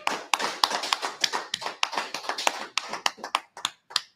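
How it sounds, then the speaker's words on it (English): Hands clap in a quick, uneven run of sharp, crisp smacks, some landing close together and others spaced apart, fairly close and moderately loud, with brief silences between the later claps and no talking. "Clap it up."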